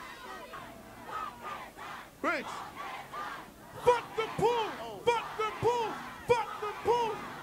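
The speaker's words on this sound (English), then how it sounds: "The crowd is chanting that." A crowd at a press conference chants in a rhythmic, repeated cadence of rising shouts, loud and close-sounding, with a single spoken word near the start.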